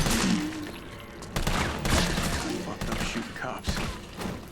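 Rapid gunfire in Resident Evil 3 (2020) as zombie police officers are shot at the police station, dense repeated shots and thuds over game ambience for the whole stretch, with a voice talking over it.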